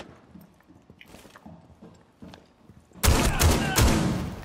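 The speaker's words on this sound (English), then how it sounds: "Swapping mags!" Mechanical clicks and clatter of a magazine swap during a reload in Rainbow Six Siege, followed by a sudden loud burst of sustained gunfire.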